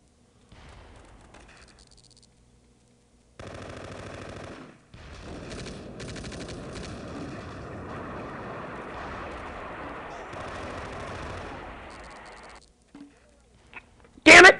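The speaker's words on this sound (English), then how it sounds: "Looks like they're calling in artillery on us now." Gunfire and artillery rumble from the World War II strategy game Close Combat Poland '39, set at a German river crossing: a steady, dense roar of bursts and rattling fire that carries on for about ten seconds, then a sharp loud blast at the end.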